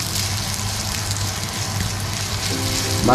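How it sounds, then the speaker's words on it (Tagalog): Spinach with garlic and onion sizzles as it stir-fries in a pan, a steady close crackle with a low hum beneath and a brief rise in clatter and hiss at the end. "parang stir fry ang dating ng spinach"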